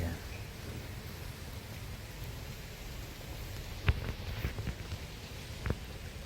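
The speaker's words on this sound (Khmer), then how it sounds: "ឥឡូវនេះមេឃនៅភ្លៀង" Rain falling at night outside a temple during preparations for a Visakha Bucha ceremony, a soft, steady hiss with a few scattered louder drops, faint and distant, no talking.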